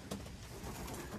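White racing pigeons in a loft, cooing low and steadily with soft overlapping calls close by, heard alone with no talk.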